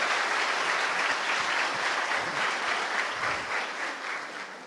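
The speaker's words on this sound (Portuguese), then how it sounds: "Aplauda o irmão que está do seu lado aí, irmão." A church congregation at a Sunday celebration service claps steadily, a dense, sustained wash of applause filling the room and tapering slightly at the end.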